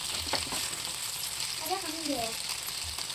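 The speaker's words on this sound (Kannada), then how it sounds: "ಫ್ರೈ ಆಗಿ ಇನ್ನೊಂದು ರೌಂಡ್ ಫ್ರೈ ಆಗಬೇಕು" Fish tawa fry sizzles steadily in a pan, a constant close hiss across the stretch, with a voice speaking briefly over it.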